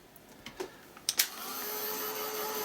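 A hair dryer blowing to dry a layer of acrylic paint on a stencilled grunge background starts after a few brief taps and settles into a steady, close, loud whoosh.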